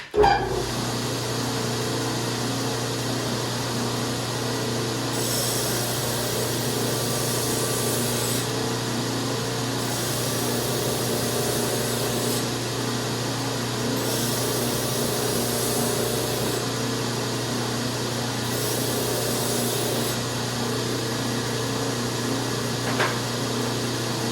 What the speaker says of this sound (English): So after our rough initial grind, we're going to go ahead and step the belt grit up to 120.